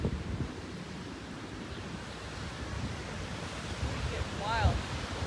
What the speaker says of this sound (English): Yeah, it's getting windy. Got a storm brewing.